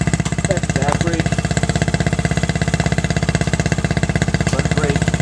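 A 1968 Honda Mini Trail dirtbike's small engine idles steadily up close, a loud, even rapid putter that continues unbroken throughout.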